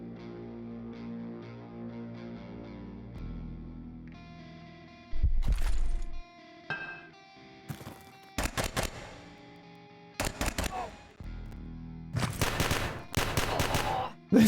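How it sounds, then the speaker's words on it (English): Gunfire in the Quasimorph video game as enemies shoot each other, sharp loud bursts and rapid volleys of shots arriving in separate clusters over a sustained tonal game soundtrack. "They started shooting each other."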